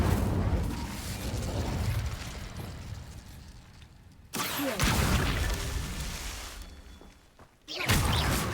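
Incendio, the fire spell in Hogwarts Legacy, flares as loud roaring whooshes of flame that swell, fade, then burst again twice, each starting with a sharp blast.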